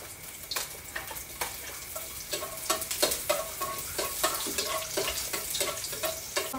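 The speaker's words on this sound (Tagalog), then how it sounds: "gisa tayo ng bawang" Garlic sautéing in a pan for a simple home dinner with Spam, loud steady sizzling broken by sharp scraping stirs of a spatula, close up with no voices.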